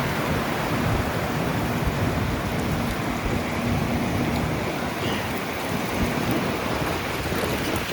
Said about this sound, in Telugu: దారుణంగా ఉంది విండ్